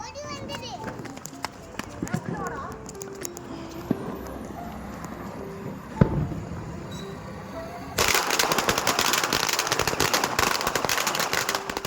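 A string of Diwali firecrackers bursts into loud, rapid, continuous crackling that fills the last few seconds, after a quieter stretch of background noise and voices.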